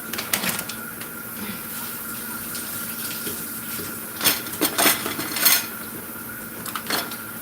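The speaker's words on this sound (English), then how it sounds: "I'm sorry, I'm doing dishes." Dishes being washed at a sink: clinks and clatters of pots, plates and cutlery over a steady background of running tap water, with a few louder bursts of clanking toward the end.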